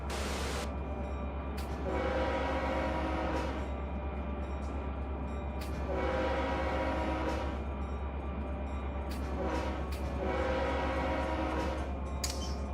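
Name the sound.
Norfolk Southern train and horn in Run 8 video game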